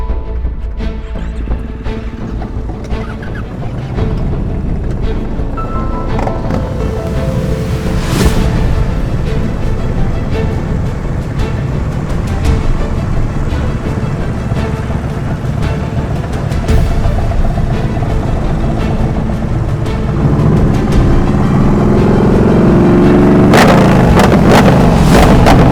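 Several motorcycles at an advanced slow-speed riding practice session rumble continuously at low revs, forming a loud, dense engine drone with occasional rises and mechanical clatter throughout.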